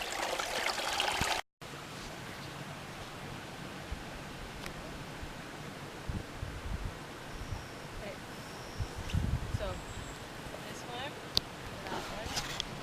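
A spring-fed creek flows with a steady, soft rushing wash, broken by occasional nearby splashes and knocks as people move in the water, with brief talk near the start.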